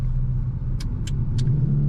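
Cars driving through rush-hour road traffic make a steady low engine rumble throughout, with a few brief airy hisses standing out above it. No one speaks.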